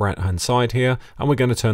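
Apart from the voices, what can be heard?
No everyday noises stand out.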